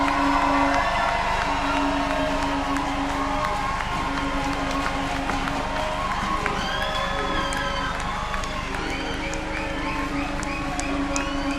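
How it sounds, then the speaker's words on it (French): A large crowd at a political rally against oppression gives a standing ovation, loud and continuous, with steady roaring cheers and shouts layered over constant clapping. "accorder une standing ovation à la sœur Jay Hassani"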